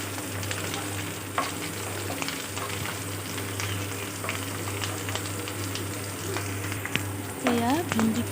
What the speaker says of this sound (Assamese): ভেন্দিখিনি মই এনেদৰে ফ্ৰাই কৰি ল'ম।